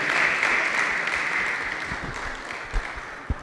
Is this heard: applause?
yes